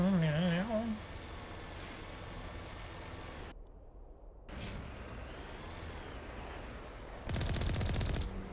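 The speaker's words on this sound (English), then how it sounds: "Ah, they're shooting through the smoke." Gunfire in the game Mass Effect Legendary Edition, rapid automatic shots rattling in bursts under game ambience and a voice, with a louder burst near the end.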